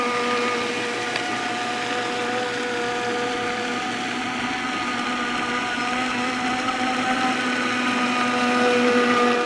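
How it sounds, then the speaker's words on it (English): A small Traxxas Blast brushed-motor RC boat runs continuously, its high, even electric motor whine holding steady and close, alone with no talking. "Obviously, it's a brushed beginner boat"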